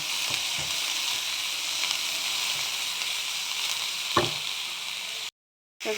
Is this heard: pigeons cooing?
no